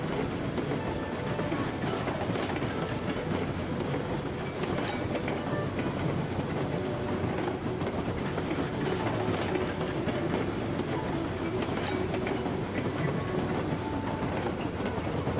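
A long freight train in the Railroads Online game hauls a heavy string of loaded cars toward a gold mine, with steady rolling rumble and rhythmic clickety-clack of wheels on rail joints throughout, loud and continuous.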